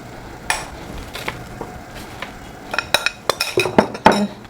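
Homemade granola scraped and tipped into a baking pan, giving a run of light clinks, scrapes and rattles that grow busier and louder toward the end, close by with no talk.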